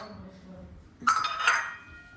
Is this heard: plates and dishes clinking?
yes